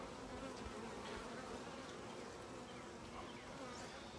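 Honey bees packed wall to wall in a top bar hive during a midsummer inspection give a soft, continuous buzzing drone, even and unbroken throughout.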